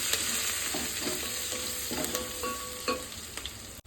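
Curry leaves, coriander and a spoon of coriander powder stirred in a sizzling frying pan for coconut milk rice, with steady frying hiss and repeated scraping clinks of a spoon against the pan.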